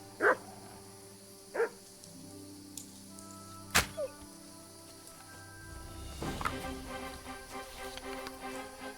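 Wolves in a medieval video game give a few spaced, sharp yelps and barks over quiet ambience, followed by a rougher rising scuffle of snarling near the end.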